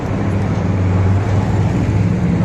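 Loud, steady road traffic rumble heard from inside a moving vehicle near Mount Taranaki, New Plymouth, New Zealand, with a low engine drone and continuous tyre and road roar and no voices.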